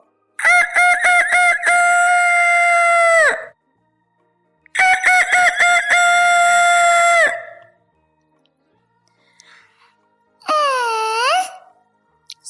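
Rooster crowing in a children's audiobook: two long, loud crows one after another, then a shorter rising-falling call after a pause, with no talk over them.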